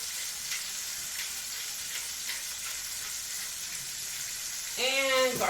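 Pork chops, seasoned with salt, pepper and garlic powder for stuffing, sear in a hot pan with a loud, steady sizzle throughout; a voice speaks briefly near the end.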